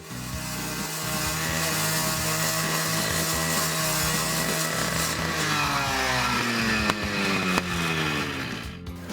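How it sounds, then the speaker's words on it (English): A gas-powered cut-off saw slices through an interlocking concrete patio stone, a loud, steady close-up whine and grind that holds throughout and eases slightly near the end, with no speech. "now we have our stone cut, so we're going to put it in place"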